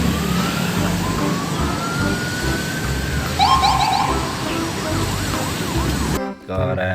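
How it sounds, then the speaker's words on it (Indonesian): A toy police car's siren rises and wails with quick electronic warbling bursts, fairly loud over a busy background, cutting off abruptly near the end. "ada mobil polisi teman-teman."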